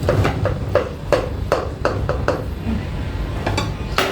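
Cutlery strikes and scrapes a plate in a steady series of sharp clinks while Kayseri yağlaması is cut into pieces, close and clear with no talking.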